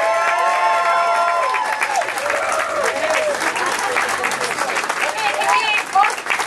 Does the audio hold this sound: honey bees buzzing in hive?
no